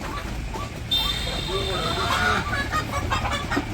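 Backyard chickens cluck repeatedly as feed is handed out in a village coop at sunset, fairly close and steady, with faint people talking nearby.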